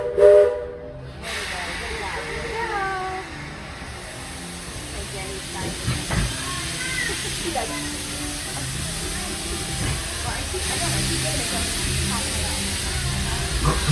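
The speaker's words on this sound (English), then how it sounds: "This train's headed straight for Main Street, USA." Walt Disney World Railroad steam train at Magic Kingdom setting off from Fantasyland toward Main Street, with a sharp hiss of steam at the start, then steady rolling rumble and clatter under a faint whistle-like tone and background voices.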